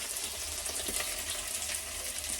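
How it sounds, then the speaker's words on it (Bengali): Potatoes fry in a pan at home, a soft, steady low sizzle heard faintly and continuously with no talking. "প্রথমে আলুটাকে ভেজে নিচ্ছি"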